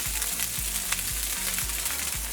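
Lap xuong fried rice sizzling in a hot pan with sesame oil, a steady crackling fry with a repeating low thump about every half second from tossing or stirring, close and without talk.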